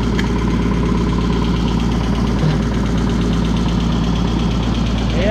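A BX-52 wood chipper from Nova Tractor runs its engine at a steady pace, producing a loud, continuous mechanical drone with a knocking rumble close by and no talking over it.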